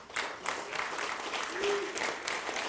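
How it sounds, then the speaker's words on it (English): A crowd at an Irish celebration parade ceremony gives steady, moderately distant applause for a couple of seconds, with a brief murmur of voices in the mix. "Give it a round of applause."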